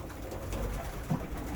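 Low, throaty cooing from pigeons being fed in the morning runs on continuously nearby, with one slightly louder coo standing out near the end.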